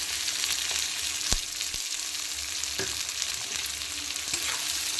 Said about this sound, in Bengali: এখন দুই তিন মিনিট সময় নিয়ে পেঁয়াজ কুচি আর চেরা কাঁচা লঙ্কাটাকে তেলে একটু ভেজে নেব